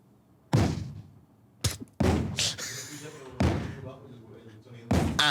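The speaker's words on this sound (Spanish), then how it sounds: "esos son los cañonazos" Pirate-battle cannon fire from culverins: five heavy booms at irregular intervals, each a sharp blast trailing off in rumble, with voices mixed in.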